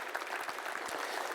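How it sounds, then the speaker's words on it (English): Conference audience at a PHP conference in Bulgaria applauding the organizers, a steady, dense wash of clapping throughout the short stretch at moderate loudness with no talk over it. "please put your hands together and give a big applause to all of them"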